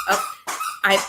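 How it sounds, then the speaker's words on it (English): A dog plays with one of its toys, giving three short, close yips or whimpering barks in quick succession, each a bright burst with brief gaps between them. "that's my dog playing with one of his toys"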